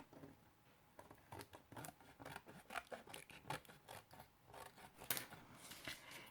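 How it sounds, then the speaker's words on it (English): Scissors snipping through excess paper at an embroidery craft table, a string of quiet crisp cuts and soft rustles at close range, faint overall. "You can just take your scissors and cut that off."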